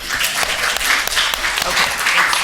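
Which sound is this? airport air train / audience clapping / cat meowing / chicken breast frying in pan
audience clapping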